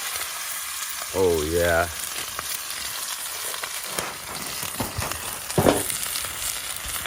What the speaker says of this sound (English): we're gonna cook the steaks on the cast iron right on top of the firebox as well.